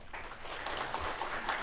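Audience applause welcomes a speaker from the National Institute of Forest Science to a 2024 forestry outlook forum, a steady, dense wash of clapping held evenly throughout with no talk over it.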